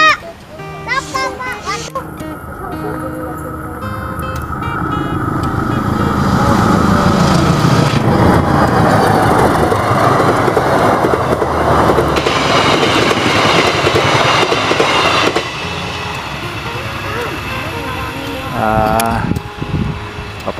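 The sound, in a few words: KA Serayu passenger train hauled by vintage locomotive passing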